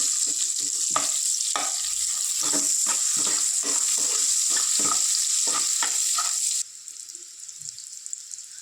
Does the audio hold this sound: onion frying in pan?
yes